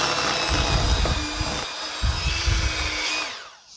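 An electric hand mixer whirs loudly and close as it beats cheeseball ingredients with vanilla, a continuous motor drone with slight dips in pitch before it winds down and cuts off at the end.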